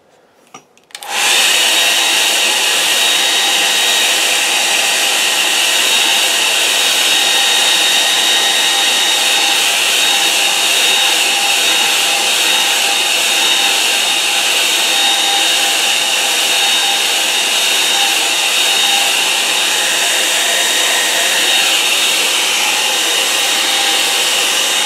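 A hair dryer blows steadily across a watercolour painting of simple blue washes, switching on after a brief pause and then running loud and continuous at close range with no talk.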